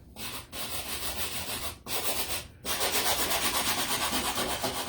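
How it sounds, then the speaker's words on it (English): Steady scratchy sanding strokes of a sanding block rub against painted wood, continuous and close, broken by a couple of brief pauses. "sand them down a little bit so they don't look so freshly painted"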